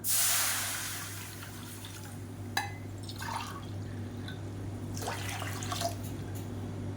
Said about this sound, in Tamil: இப்போ அதே கடாயில் நல்ல ஒரு 400 ml அளவுக்கு தண்ணி சேர்த்துக்கலாம்.